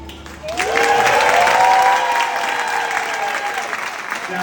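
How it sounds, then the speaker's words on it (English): A convocation audience at City College bursts into loud applause that swells and holds, mixed with cheering and a rising tonal whoop over the clapping. "Let's give another round of applause, City College."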